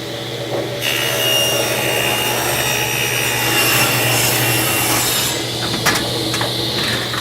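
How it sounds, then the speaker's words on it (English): Wood being cut to a taper with a taper tool in a wood shop, a continuous loud rasping, sawing rub that runs steadily for several seconds before easing off. "We're gonna try to cut a taper."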